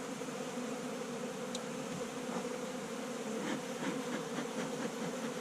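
Honey bees buzz in a continuous drone around a queen cage, a dense steady hum with a few sharper individual wing buzzes standing out close by.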